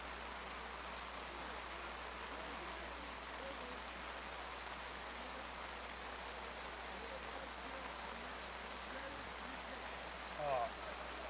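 Steady rain falls during an outdoor flag football game at a Super Bowl Sunday league matchup, a constant broadband hiss throughout with a brief louder patter near the end and no clear voices.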